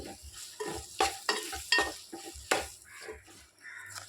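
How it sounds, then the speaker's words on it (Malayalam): Chopped gooseberries and other pickle ingredients being stirred in a pan, with repeated scraping strokes of a spoon against metal over a light sizzle, close and fairly loud, no talking. "എല്ലാം കൂടെ ഒന്ന് ഇളക്കി കൊടുക്കാം"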